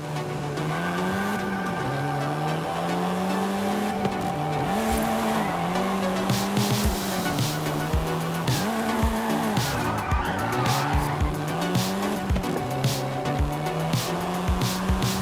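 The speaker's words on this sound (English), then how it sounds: "This version is the Volkswagen Golf R, R meaning race." A Volkswagen Golf R driven hard in Forza Horizon 5, the engine droning and shifting pitch while the tires squeal and skid repeatedly through corners, loud and close throughout.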